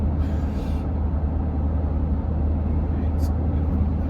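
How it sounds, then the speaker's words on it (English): Kia Tasman 2026 pickup climbing uphill off-road, heard from inside the cabin as a steady low engine rumble and drone, with brief higher whooshes over the top and speech-like sounds in the cab. "you can feel the torque as the car drives up"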